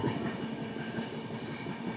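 The Machilipatnam–Dharmavaram Express (17215) runs through Nallapadu Junction without stopping, heard from on board as a steady, fairly faint rolling rumble with soft rhythmic wheel clatter.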